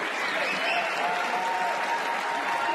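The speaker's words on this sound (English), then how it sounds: "Darian Clark went to the SC bench and got a nice round of applause" A basketball crowd gives a warm round of applause as a player heads to the bench, a steady wash of clapping that sounds somewhat distant and holds evenly throughout.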